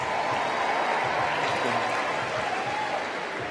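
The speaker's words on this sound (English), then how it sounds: "Please, a round of applause for the lovely and super talented Ashley Vargas." An arena audience at the final Ringling Bros. and Barnum & Bailey circus performance claps in dense, continuous applause that holds at a steady, loud level throughout.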